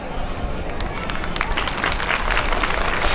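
A school annual day audience applauds award winners with dense, loud, continuous clapping and crowd noise that swells slightly toward the end, with voices mixed into the roar.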